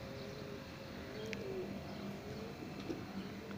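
Pigeons cooing softly at a distance in low, repeated throaty calls over a faint background hum, with a few brief higher chirps, no voices.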